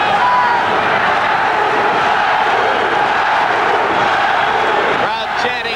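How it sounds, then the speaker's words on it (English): A boxing-match crowd chants a fighter's name, a dense continuous roar of many voices filling the arena at steady loudness, with commentary running over it. "Crowd chanting Matthew"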